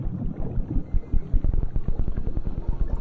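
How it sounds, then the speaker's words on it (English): A male Great Lakes fish calling underwater by rapidly contracting its swim bladder muscles, a low rumbling drone of fast pulsing thumps, loud and continuous like a revving engine, with no voices. "He calls by rapidly moving the muscles of his swim bladder."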